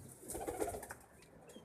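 A pigeon held in someone's hand gives a few soft, low coos close by, faint and brief, with no speech.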